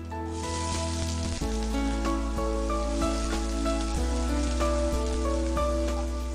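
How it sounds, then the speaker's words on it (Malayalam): Chopped onions sizzle loudly in hot oil after mustard seeds finish popping, a dense steady crackle like heavy rain with a low constant hum beneath, close and continuous with no talking. "കടുക് ഒന്ന് പൊട്ടിക്കഴിഞ്ഞാൽ നമുക്ക് അരിഞ്ഞു വെച്ചിരിക്കുന്ന സവാള ചേർക്കാവുന്നതാണ്"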